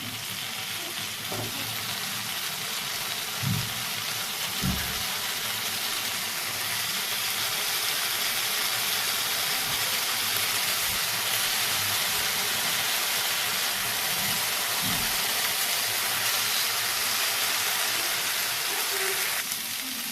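Marinated tandoori chicken pieces fry in a hot pan, a loud, steady sizzle and hiss lasting throughout with occasional soft clunks as the pieces are turned.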